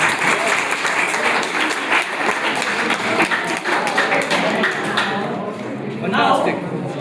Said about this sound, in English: So, I would like to request all of the audience to give the big round of applause.